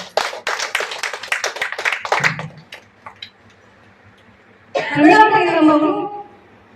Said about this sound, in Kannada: ನಾವೆಲ್ಲರೂ ಮಹಿಳೆಯರು ಈ ಪ್ರೇರಕ ಪ್ರೋತ್ಸಾಹ ಶಕ್ತಿಗೆ ಒಂದು ಜೋರಾದ ಚಪ್ಪಾಳೆಯನ್ನು ಕೊಡೋಣ